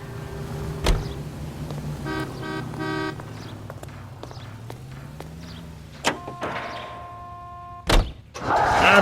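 A car drives in L.A. Noire with a low engine hum that gently rises and falls. It is broken by a short horn-like toot and a few sharp knocks and clunks.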